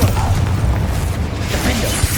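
Spell blasts from the Hogwarts Legacy game, a dense, loud rumbling boom with bursting, crackling impacts packed into two seconds, alongside game voice effects.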